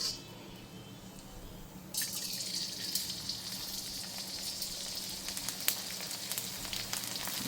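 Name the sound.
gond (edible gum) frying and puffing in hot ghee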